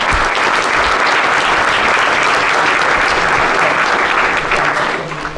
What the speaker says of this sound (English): could we give Tim Farron a round of applause for joining us today?